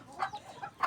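Backyard chickens cluck nearby in short bursts during feeding, two louder clucks bracketing softer murmuring calls from the flock.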